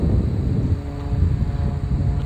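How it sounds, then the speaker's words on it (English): Airplanes drone overhead during an outdoor walk on a rural property, a steady low rumbling hum filling the whole stretch at moderate loudness with no speech. "There's planes somewhere up."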